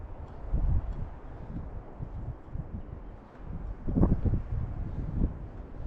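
Strong, gusty wind buffets the microphone outdoors while an RC plane flies in high winds, a rough low rumble that swells and dips in loud bursts.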